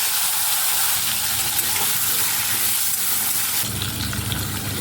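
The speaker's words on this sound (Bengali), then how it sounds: "এই পটলগুলোকে নেড়ে চেড়ে খুব ভালো করে ভেজে নেব" Pointed gourd pieces fry in hot oil with a steady, dense sizzle and occasional stirring, loud and close throughout.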